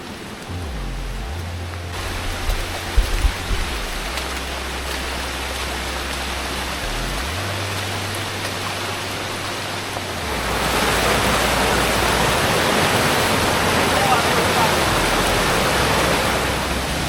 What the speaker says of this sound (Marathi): वॉटरफॉलचा आवाज येऊ लागला आहे आता खूप जोरात घनदाट जंगलातून